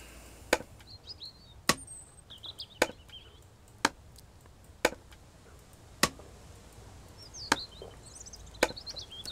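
An axe chops wood in a video game, with sharp, dry strikes arriving at an uneven pace of about one per second, moderately close over quiet ambience and faint chirps.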